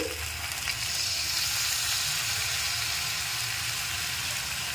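Spice masala for a rohu fish curry is stir-fried in a pan with a splash of water, a dense, loud, continuous sizzle close by with faint stirring under it.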